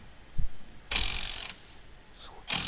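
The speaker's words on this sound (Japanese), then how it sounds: "インパクトレンチ買ったからそれ使えばいいんだと いうことで" Two sharp bursts from an impact wrench loosening a rear differential bolt on an older, high-mileage BMW, close and loud, split by a brief pause and a faint metallic clunk, with no talking.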